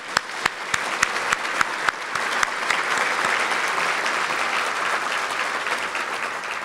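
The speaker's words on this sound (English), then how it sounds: "Let's give them a round of applause." At a county government event, an audience claps for newly elected representatives, starting with a few sharp individual claps that quickly grow into dense, sustained applause filling the room.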